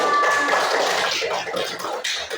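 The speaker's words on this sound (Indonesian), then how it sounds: "Tepuk tangannya mana?" A classroom group applauds group 1, a dense burst of many hands clapping close by for about two seconds, fading slightly toward the end.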